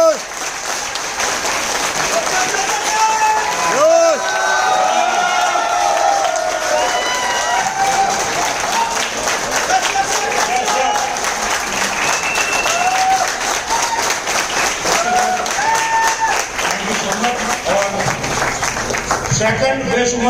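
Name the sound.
audience applauding loudly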